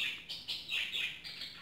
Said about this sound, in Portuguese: esses passarinhos hoje eles estão querendo conversar muito